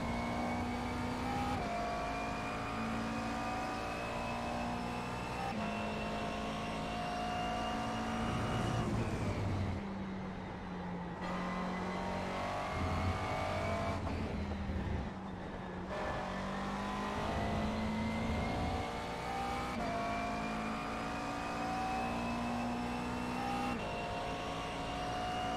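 A McLaren GT3 race car in iRacing's fixed GT3 Sprint at the Red Bull Ring drones steadily near at high revs. The pitch climbs and drops with sharp gear shifts and braking dips, and there is no talk.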